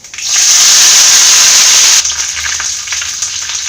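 Curry leaves hit hot oil with a loud, sudden burst of hissing sizzle that holds steady, then drops to a softer crackle about halfway through, close and without voices.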